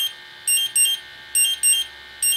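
An AFC BTS101 gas detector in alarm during a bump test gives loud, shrill electronic beeps in paired bursts, repeated three times over a faint steady hum.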